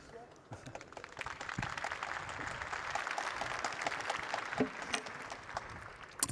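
An audience at a French startup investment talk applauds to welcome a speaker, a sustained wash of many hands clapping that swells and then trails off, with a few stray claps near the end.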